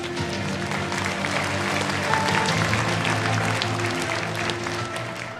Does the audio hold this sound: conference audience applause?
yes